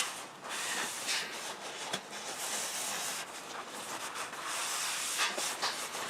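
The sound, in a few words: brake cleaner aerosol spraying on car parts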